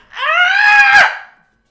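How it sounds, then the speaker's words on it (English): A man lets out a single loud, strained scream of mock rage, rising and then breaking off after about a second, close to the microphone. "I'm gonna scream! I'm gonna rage!"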